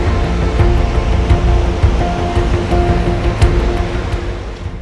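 Rushing glacier stream water, a loud, close, continuous churning roar that stays steady throughout, with no voices over it.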